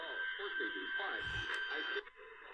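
A Tiemahun FS-089 emergency radio on medium wave picks up a distant AM station. A thin, band-limited voice comes through under steady hiss, with a faint whistle-like tone over it.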